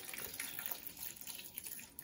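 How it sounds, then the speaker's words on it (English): Water poured into a filter bag of makgeolli mash made with nuruk, a steady soft splashing and trickling stream, close and continuous for the whole stretch with no talk. "So I add the jjigae back to the filter bag and I pour in 200 milliliters of water."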